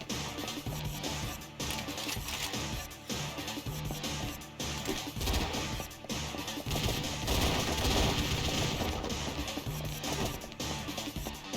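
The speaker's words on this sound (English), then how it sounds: "Who is shooting at me?" In the Ghost in the Shell: Stand Alone Complex PSP game, gunfire rattles at the player in rapid bursts and sustained volleys at moderate loudness, mixed with in-game effects and no talk.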